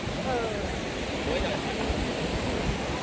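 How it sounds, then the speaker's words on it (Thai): Steady broadband rush of a waterfall on a trail in Jiuzhaigou, China, in a snowy setting, a continuous roar close by with a low wind rumble underneath and no break across the few seconds. "น้ำตก"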